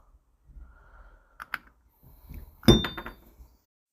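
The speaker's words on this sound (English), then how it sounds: "to tap that cap in there and put the grease nipple on it" A metal cap being tapped into the link arm of a Massey Ferguson 390 tractor: a few sharp, close metallic clinks, with one louder strike near the end followed by a short ringing.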